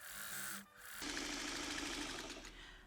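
A vintage Singer sewing machine stitching quilt pieces: a fast, steady mechanical whir with a rapid clatter of the needle, briefly stopping and then running again at close range.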